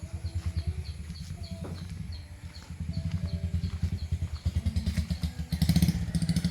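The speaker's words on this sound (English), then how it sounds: "Oh, there's a motorcycle going that way." A motorcycle engine putters rhythmically close by on a jungle dirt path, its pulsing exhaust note rising and falling as it rolls past, with faint birds in the background.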